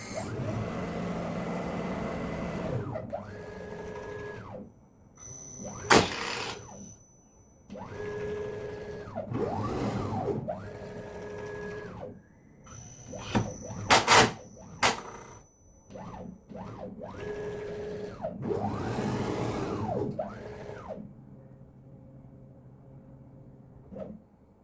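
A motorized dust cover on a homemade CNC automatic tool changer opens and closes in repeated cycles, whirring stepper-motor sweeps rising and falling in pitch, broken by sharp clicks and clunks, moderately close and with no voices.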